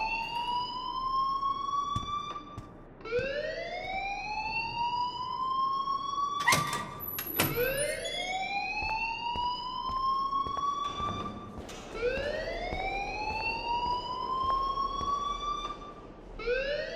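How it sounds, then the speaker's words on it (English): A school alarm in the video game Life is Strange wails in repeated rising siren sweeps, each lasting a couple of seconds with short gaps between, loud and steady, with a couple of sharp clanks partway through. "please turn off that alarm since that's your job"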